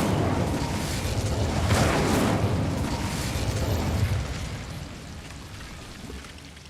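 Incendio fire spell in Hogwarts Legacy bursting into a loud, roaring whoosh of flame that crackles and rumbles for several seconds before gradually fading.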